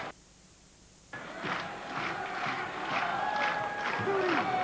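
French rugby supporters roar in a packed stadium during a France v England match, with crowd cheering and chanting swelling after a brief quiet opening and growing louder, while faint tonal whistles or horns cut through.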